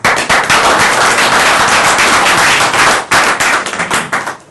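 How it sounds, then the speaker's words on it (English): A press briefing audience claps in a loud, crisp burst of close, sharp hand claps, pausing briefly before a shorter, thinning round. "But please, a round of applause for us."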